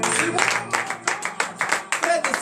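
A church congregation at a morning prayer service in Benin claps and applauds in praise, a steady, rhythmic wash of hands with voices calling out underneath.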